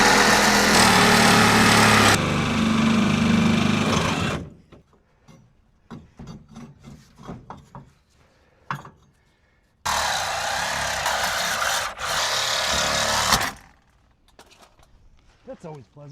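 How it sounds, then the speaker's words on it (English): A power saw blade cuts through a leaf spring shackle on a 1998 Ford Ranger 4x4, in two loud rasping grinding bursts separated by quieter clanks and handling noises, with someone talking in the gaps. "I'm just going to cut this shackle in half so I can get the spring out of my way"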